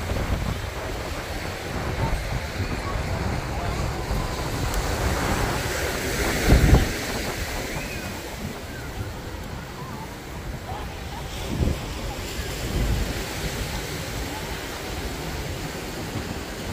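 Surf rolls onto Bondi Beach in Sydney, a constant wash of waves mixed with wind buffeting the microphone, with a couple of louder gusts or thumps and faint voices from the busy beach.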